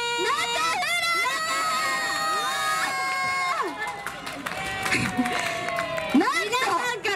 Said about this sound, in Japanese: なんと皆さんから拍手が起こってますよ